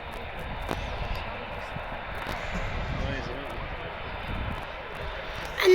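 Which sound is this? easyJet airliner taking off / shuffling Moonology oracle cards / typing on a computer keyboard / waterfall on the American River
easyJet airliner taking off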